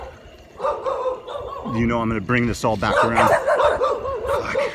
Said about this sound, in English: I have some mace for those dogs in case they want to party.